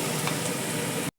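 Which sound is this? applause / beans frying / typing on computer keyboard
beans frying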